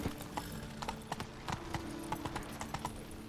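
Roach, the player's horse in the video game The Witcher 3: Blood and Wine, trots along with quick, irregular clip-clopping hoofbeats, faint and fairly close, with no talk over it.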